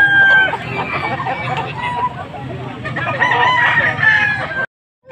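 Roosters and fowl at a market in Bocaue, Pampanga, crow loudly and close, with several drawn-out calls and clucking over a background of murmured voices before an abrupt cutoff.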